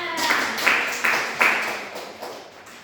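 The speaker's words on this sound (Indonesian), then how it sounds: "beri tepuk tangan untuk temannya" Short burst of classroom applause for a student, a few loud, uneven swells of clapping from a small group that fade out within seconds.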